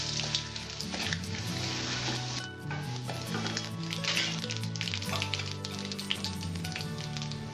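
Cumin, white cumin and bay leaves crackle and sizzle in hot oil, a bright dense spitting hiss with quick sharp pops throughout, close and alone, against a low steady hum.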